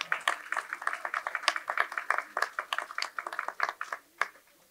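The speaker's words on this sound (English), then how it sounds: "Let's go ahead and give yourselves a round of applause for asking such a bunch of good questions." A small audience at an ocean and sustainable development lecture panel claps after a question session, with scattered, uneven handclaps that come and go at moderate volume, sounding sparse rather than a full ovation.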